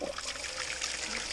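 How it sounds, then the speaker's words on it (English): Water turned on to feed a gold tumbler, producing a soft steady trickle and splash of running water that continues evenly throughout. "Let's turn this water on."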